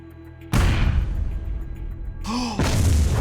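Cannon fire in the mining combat video game Miner's Mettle: two heavy booming blasts, the first sudden and loud with a long rumbling tail, a second following after a short rising tone, close and without talk.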